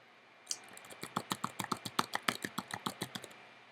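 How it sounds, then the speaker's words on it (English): Rapid, even keystrokes on a computer keyboard, a close run of crisp clicks after a brief pause at the start. "I'm just typing gibberish right now."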